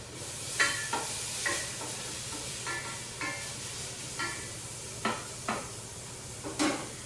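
Bacon sizzles gently in a pot as the base for oyster chowder, with a steady frying hiss and several scattered utensil scrapes and clicks of stirring, close and moderately loud, with no talking.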